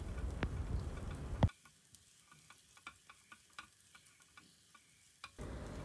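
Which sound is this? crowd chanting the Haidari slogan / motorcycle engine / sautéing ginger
sautéing ginger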